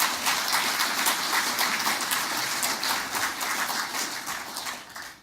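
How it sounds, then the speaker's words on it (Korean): Sustained audience applause fills a Korean community gathering hall, dense steady clapping from many hands at close range, fading slightly near the end with no talk over it. "그분들을 위해서 꼭 통과시키라고 박수 한번 쳐주십시오"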